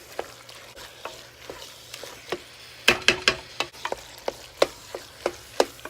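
Ground meat for Bolognese sizzles as it toasts in a pan, a steady fry hiss broken by repeated sharp scrapes and taps of a spoon against the pan at an uneven rhythm, close and clear.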